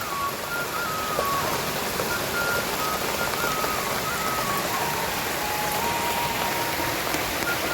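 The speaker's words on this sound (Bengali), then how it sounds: "বৃষ্টি তো বৃষ্টির মতো হয়েই যাচ্ছে" Heavy, persistent afternoon rain, a dense, unbroken roar of drops close by that holds at a constant level throughout, with a faint thin whine drifting above it.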